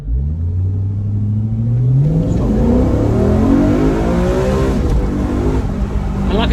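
A naturally aspirated V8 in a BMW M3 E93 accelerates hard in first gear, its engine note climbing steadily in pitch through the revs, loud and close from inside the car.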